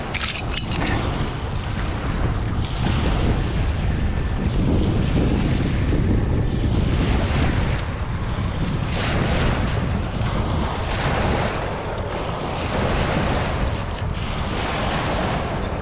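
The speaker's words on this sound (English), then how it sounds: "You can hear that the tide is coming in." Waves coming in on a shore as the tide rises, a loud continuous wash of surf mixed with heavy wind buffeting the microphone, with no voices.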